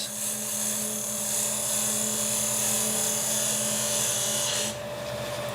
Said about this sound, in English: So we're just going to do a nice sort of finishing cut down on there, down on that side.